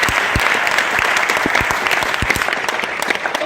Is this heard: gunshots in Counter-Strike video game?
no